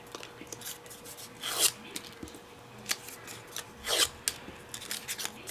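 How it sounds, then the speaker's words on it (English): A bone folder rubs and scrapes across a paper cupcake die-cut to round its top, producing a few short, dry rasping strokes with quiet pauses between them. "they want you to take like a bone folder or something and kind of round out the top of your cake"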